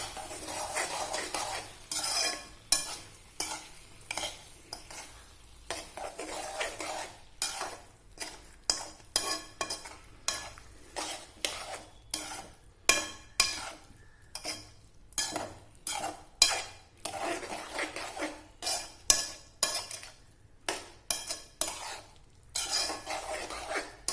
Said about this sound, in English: Now we will allow the apples to cook down.